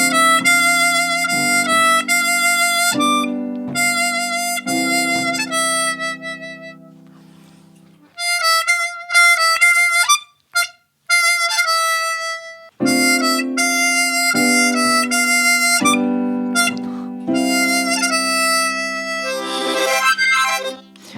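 A diatonic harmonica plays a bright, flowing melodic phrase from Bach's Badinerie over sustained chords, loud and close, with a couple of brief pauses and no talking.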